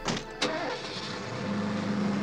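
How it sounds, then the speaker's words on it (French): A car from a 1991 Freddy horror film passes by with a steady engine rumble and road hiss, a sharp thump near the start, and a low hum building toward the end. "le passage de la voiture."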